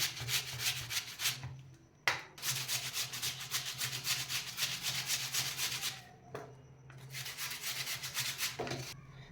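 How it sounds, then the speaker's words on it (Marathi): Raw potatoes grated by hand on a grater, loud close rhythmic rasping strokes in fast runs broken by a few brief pauses. "तर अशा पद्धतीने हे तिन्ही बटाटे खिसून घ्यायचे आहेत।"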